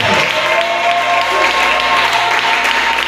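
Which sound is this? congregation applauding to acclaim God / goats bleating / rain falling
congregation applauding to acclaim God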